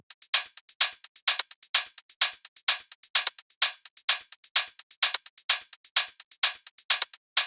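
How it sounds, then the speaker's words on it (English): Crisp electronic tech house hi-hats tick in a fast, layered pattern with steady rhythm and varied accents, no bass or other instruments beneath. "Let me play the hi-hats together first."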